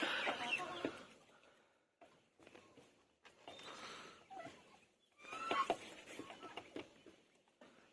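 Chickens in a pen, several of them sick, including a weak white one and an ailing black hen, cluck and shuffle nearby in irregular bursts separated by brief quiet gaps, with scratchy movement noises mixed in.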